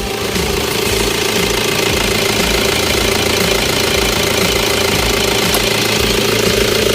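A Toyota Vigo Champ pickup's 2.5-litre D4D diesel engine idles steadily up close, a continuous low rumble with a faint knocking clatter, loud and unbroken, with no talking.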